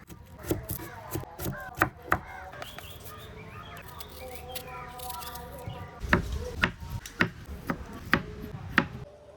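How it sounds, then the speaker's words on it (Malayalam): Raw mango being chopped for Kerala-style pickle, sharp knife strikes on a board in irregular bursts, close and clear, with birds chirping in the background and a voice talking over parts. "മാങ്ങയൊക്കെ കട്ട് ചെയ്ത് കഴിഞ്ഞിട്ടുണ്ട്"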